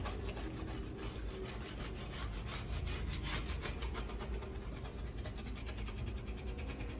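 Flat-edged scraper dragged repeatedly across a glass stovetop, giving a steady, close, rasping scrape in fast back-and-forth strokes over a constant background hum, with no talking.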